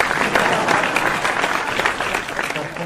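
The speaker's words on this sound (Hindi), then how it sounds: "तुम सब भी ताली बजा रहे" An audience at a Hindi poetry recital (kavi sammelan) for Indore's foundation day claps in a dense, steady burst, fairly close and loud, with no voices on top.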